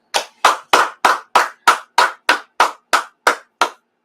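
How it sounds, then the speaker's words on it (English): A group claps in tight unison, about a dozen sharp, evenly spaced claps at a steady rhythm, close and loud, with no talking, during a brotherhood class at the Israelite School of Universal Practical Knowledge in Harlem, New York. "Let's clap it up."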